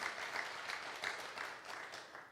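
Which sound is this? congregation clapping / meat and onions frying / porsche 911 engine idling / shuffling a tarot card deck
congregation clapping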